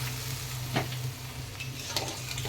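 Water is splashed into spice paste frying in a pan for a desi magur catfish curry. A loud continuous sizzle and crackle plays throughout, with brief stirring scrapes and no talking.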